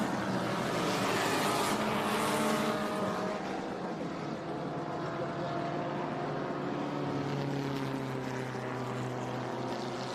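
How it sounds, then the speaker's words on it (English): A Trans Am race car engine rumbles and revs loudly and steadily at close range for about ten seconds during refuelling at Laguna Seca raceway, its pitch shifting slightly as it roars. "Hearing a beautiful sound of one of the Trans Am cars just lighting up his engine as he gets some fuel before he gets ready to go out."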